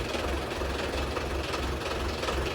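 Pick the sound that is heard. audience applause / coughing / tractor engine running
tractor engine running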